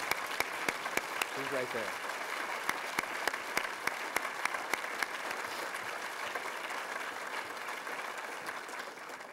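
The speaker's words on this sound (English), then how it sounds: "I want to have a round of applause for her, for heaven's sake" An audience at a Toronto City Council meeting applauds steadily through a long, even stretch. A few louder individual claps stand out early on, a brief voice speaks near the start, and the clapping tapers off gradually.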